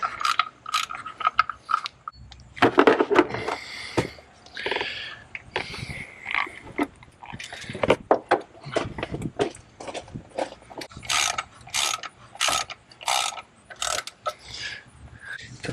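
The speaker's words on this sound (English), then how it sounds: "Just gonna use my size 10 ratchet and socket." Clicking of a size 10 ratchet and socket tightening a belt tensioner pulley on a car engine, in short irregular bursts of close metallic ratcheting with pauses between strokes.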